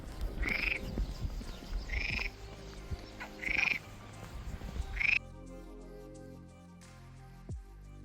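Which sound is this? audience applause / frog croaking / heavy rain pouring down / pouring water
frog croaking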